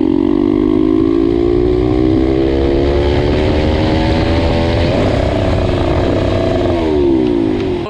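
A turbocharged MRF 140 pit bike motorcycle engine runs at high revs with a stuck throttle, a loud, steady buzzing roar with shifting pitch, close up throughout.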